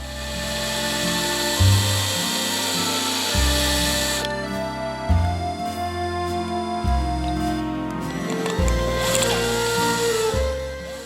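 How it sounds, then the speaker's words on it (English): A power drill whines and grinds into the mushroomed metal ends of a Matchbox Super Kings K-16 die-cast toy, loudest in the first few seconds, with background music underneath. "Now I can drill out the mushroomed metal ends for complete disassembly."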